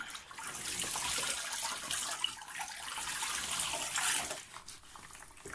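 Water is poured over a newborn baby during a bath, a steady close splashing stream that runs for several seconds and eases off near the end.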